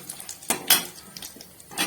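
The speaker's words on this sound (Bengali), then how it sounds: "একটু ভালো করে নেড়ে নেব" Whole cumin, bay leaf, dried chilli, cardamom, cinnamon and cloves stirred in oil in a pan for dal, a few faint scraping clinks of the utensil against the pan.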